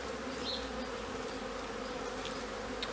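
Steady, dense buzzing of honeybees around an open hive fills the whole stretch, a continuous close drone of a swarm, with no voices.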